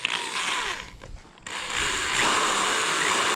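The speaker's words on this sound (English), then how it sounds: "What we need to drill our holes for this." A power drill bores mounting holes for a rear wing on an MK7 GTI, a high whining run that pauses briefly, then resumes steadier and louder until it stops, with no talking.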